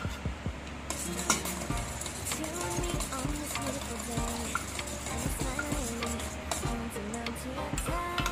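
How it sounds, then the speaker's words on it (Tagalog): Chocolate cupcake batter with vanilla and dissolved coffee is stirred in a bowl, producing continuous close scraping and tapping of a utensil against the bowl, with faint background sounds alongside. "We will mix it."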